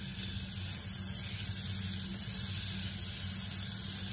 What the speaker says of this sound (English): got my skillet getting nice and hot, got my butter, start throwing that in there